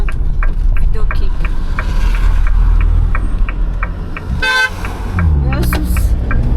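A car horn gives a brief toot as a thank-you on a winding Corsican road, heard from inside a moving car over steady engine and road rumble, with people talking.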